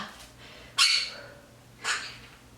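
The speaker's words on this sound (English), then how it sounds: "Have you heard my bird?" Two short, bright bird calls about a second apart, sharp and squawky, over a quiet room background with no talking.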